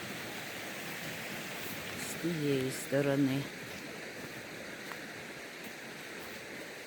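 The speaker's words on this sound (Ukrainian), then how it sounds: "це річка" A river in a Carpathian village flows as a steady, broad rushing wash of water heard from nearby, with a person speaking briefly over it.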